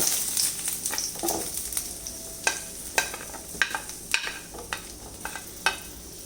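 Steady crackling sizzle of onions frying in a pan, with scattered sharper pops and spatters throughout; no voices.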